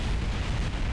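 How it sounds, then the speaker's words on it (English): A rumbling, roaring explosion in Kerbal Space Program, a rover craft blowing up; one sustained loud blast fills the second with dense low rumble, alone with no voices. "There's another explosion."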